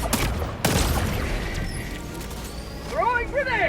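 Gunfire and grenade blasts ring out in the Helldivers 2 video game, a booming burst with rumbling aftermath followed by crackling combat noise, while voices speak over the action.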